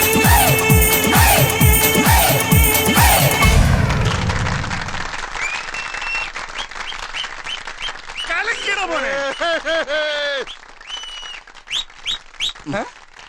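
Audience applause at a stage show, a dense burst of clapping layered with music at first, then fading as speech and sung notes take over.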